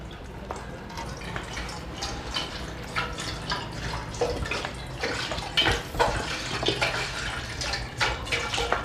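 Water poured from a measured kilogram onto a kitchen scale as the first step of making syrup for Eastern sweets, a steady splashing, trickling stream running continuously at close range with no talk over it.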